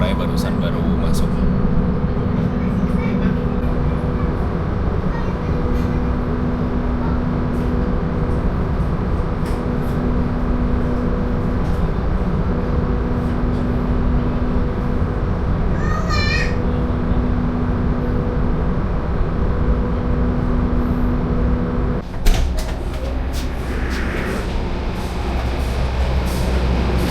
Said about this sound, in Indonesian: Di sebelah sana ada kereta lokal Bandung Raya baru masuk.